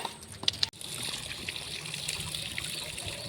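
Water runs steadily from a tap, a soft continuous trickle that starts abruptly after a brief pause and flows on unbroken, fairly faint and with no voices over it.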